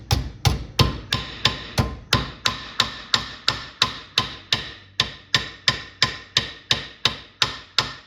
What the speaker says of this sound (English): See if I can lightly tap this out so that we can reuse it